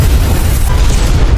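A grenade blast inside a laboratory, rendered as a film sound effect: a loud, continuous low-frequency boom and rumble that fills the whole stretch without a break, heard on its own with no talking.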